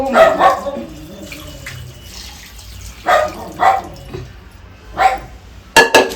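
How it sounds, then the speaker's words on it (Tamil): Water left from cooking mutton is poured into a pot of mutton kulambu curry in several uneven splashy bursts, ending with a sharper clatter. "இப்போ வந்து ஆல்ரெடி மட்டன் வேக வச்சிருந்தோம்ல அந்த தண்ணியே இதுல வந்து ஆட் பண்ணிக்கிறோம்"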